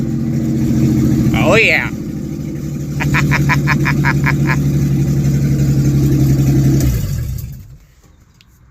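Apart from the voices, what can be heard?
1953 Mercury car engine revving and idling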